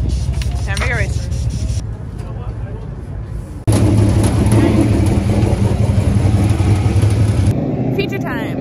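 Race cars at Cherokee Speedway roaring off at the start of a feature race, a loud sustained engine drone that cuts out briefly and then returns even louder, with a voice talking over parts of it.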